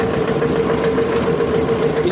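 A tractor engine runs at a steady, loud, close drone with a low knocking chug while the tractor is driven along a village road toward the market.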